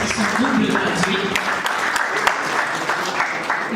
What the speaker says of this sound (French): Alors applaudissez-les encore une fois